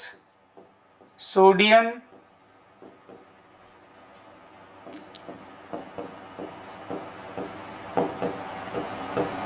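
Chalk or pen writing on a board during a chemistry lesson: a run of short scratchy strokes in uneven rhythm, close, following a brief spoken word from a man.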